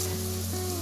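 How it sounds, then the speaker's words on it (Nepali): Chopped onions sizzle steadily in a hot pan for chicken do pyaza, a constant close frying hiss with no voices. "अब हामी यसमा सानो सानो पारेर काटेर राखेको प्याज हाल्छौँ। यसलाई हामी अलिकति ब्राउन हुँदैसम्म पकाउँछौँ।"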